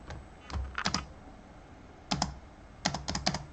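Keys on a computer keyboard are pressed for an Alt+Space shortcut, giving close, crisp clicks in three short bursts separated by pauses, against a faint background hiss.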